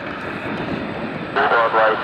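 A United Airlines Boeing 787-8 Dreamliner jet at San Francisco International Airport, its engines producing a steady, loud roar that swells toward the end, with radio voices over it.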